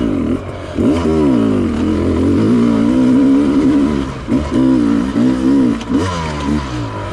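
A Sherco dirt bike engine lugs at low revs in second gear up a steep climb, a loud, steady, throbbing drone with uneven pulses and surges as the throttle works against the load.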